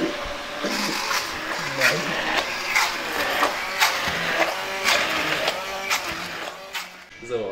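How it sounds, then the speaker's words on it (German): Electric blender pureeing thawed frozen raspberries in a home kitchen; a loud, close, continuous motor whir with rhythmic pulsing bursts, easing off near the end. "das sind die gefrorenen Himbeeren, die habe ich jetzt auftauen lassen und die püriere ich jetzt."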